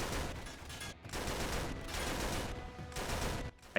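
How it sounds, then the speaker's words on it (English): Sustained turret fire from the Uncharted 3: Drake's Deception video game, a dense continuous rattle of automatic shots with brief gaps, loud and close with no talking. "I kill the ones I can with the turret"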